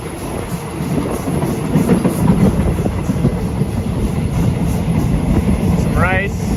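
An antique steam train rolls along rails through Thai countryside, a steady close rumble and clatter running for several seconds, with a brief rising whistle-like squeal near the end.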